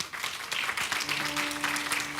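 Spanish-speaking church congregation applauding in praise, a steady moderate wash of clapping with faint sustained musical tones and a voice underneath.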